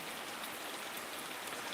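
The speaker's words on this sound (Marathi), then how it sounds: "बऱ्याच ठिकाणी पाऊस पडताना आपल्याला पाहायला मिळत आहे" Steady rain falls across a rural area of Solapur district, a dense, even hiss of drops on surfaces that stays constant and close throughout, with no voices.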